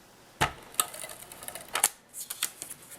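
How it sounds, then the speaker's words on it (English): A tape runner drawn along the edges of a handmade wedding dress card, a few sharp clicky snaps and short sticky ticks, close and quiet, spaced irregularly. "I'm just going to run my tape runner up both sides"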